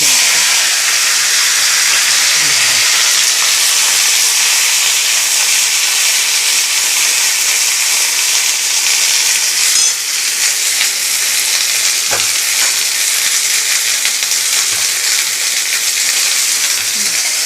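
Okra fries in oil with nigella seeds and a dried red chili, making a loud, unbroken sizzling hiss that lasts the whole time, with a few faint stirring scrapes and no speech.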